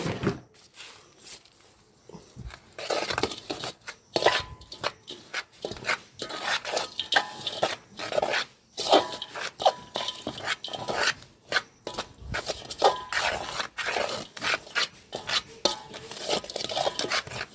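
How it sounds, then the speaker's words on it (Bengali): Compost ingredients for a rooftop garden, including eggshell powder, are mixed by hand, producing close, irregular scraping and gritty rustling strokes with brief pauses between them. "এবারে এই উপকরণগুলো কিন্তু আমি ভালো করে মেশাবো"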